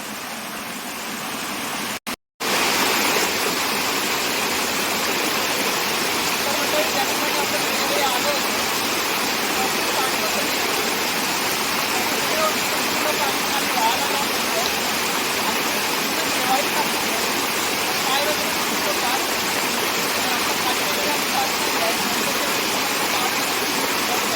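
A forest stream in the Konkan countryside rushes through thick woods under heavy monsoon rain, a loud, close, unbroken roar of water that barely changes for the whole stretch after a brief cut near the start.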